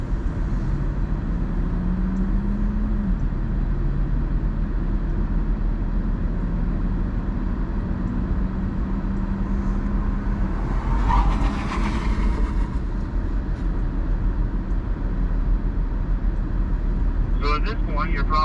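A car driven at high speed, its steady road and engine roar continuing throughout, with a rising engine tone early on and someone talking over it.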